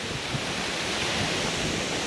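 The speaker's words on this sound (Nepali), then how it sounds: "झर्ना" A waterfall in Sikkim on a rainy day rushes in a steady, even wash of noise that fills the short stretch without pause.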